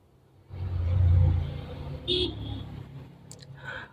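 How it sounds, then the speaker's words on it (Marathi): A car drives by on the road. The rumble swells quickly, peaks and then fades as the car passes, and a few faint clicks sound near the end. "एखादी गाडी चालली बघा."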